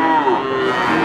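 A single loud, drawn-out moo from a young breeding cow at a cattle market, close by, with a steady low tone that wavers slightly in pitch.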